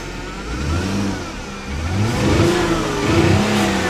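A 2006 Mercedes-Benz C230 engine with a misfire on cylinder six is revved up and held, a steady mid-pitched drone that swells louder partway through, with no talk over it.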